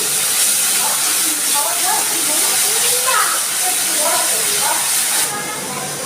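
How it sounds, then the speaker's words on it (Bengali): Onion and garlic paste hits hot mustard oil already spiced with cardamom, cinnamon, bay leaf and cumin seeds, giving a loud, steady hissing sizzle that fades slightly near the end. "এবার দিচ্ছি আমি পেঁয়াজ রসুনের পেস্ট।"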